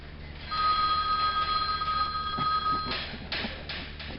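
Telephone ringing indoors during a stage play, with an electronic bell tone holding steady for a couple of seconds before louder thumps and clatter follow.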